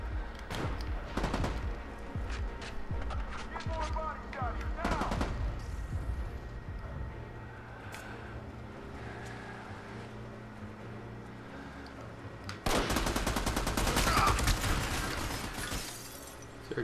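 Game gunfire in Army of Two comes as sharp scattered shots and short bursts over a rumbling mechanical background, with a louder, denser stretch of firing and clatter near the end; no voices.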